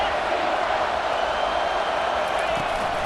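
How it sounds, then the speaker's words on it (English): Football stadium crowd rising up and cheering late in a Tigers game at Georgia, a dense continuous roar of many voices filling the space at steady loudness, with no individual claps standing out. "This crowd rising up, sensing that its defense needs some help."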